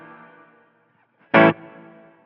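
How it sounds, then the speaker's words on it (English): An electric guitar sounds through a Line 6 Helix with the Ganymede reverb: a sustained chord decays into silence, then a short loud distorted stab is struck and rings on in a reverberant tail. "on the reverb here, I have the Ganymede"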